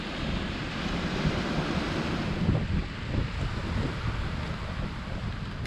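Steady broadband rush of ocean surf and wind on the Peloponnese coast of Greece, near the rock of Monemvasia, continuous and fairly loud, with no voices.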